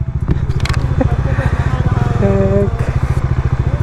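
A motorcycle rides a rural village road toward a waterfall, its engine putting out a steady, close, chugging rhythm. Voices are heard over it.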